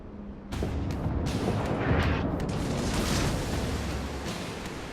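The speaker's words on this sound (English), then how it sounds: "Mutsu firing at me again, but missing." Battleship Mutsu's heavy guns fire in World of Warships, a deep, loud booming roar that starts abruptly and rolls on as a sustained rumble before slowly easing.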